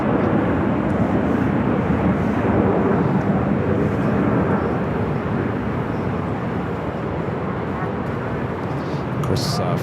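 A French Bee airliner arriving at LAX produces a steady, broad jet roar that holds loud and even throughout, with the engine noise dominating.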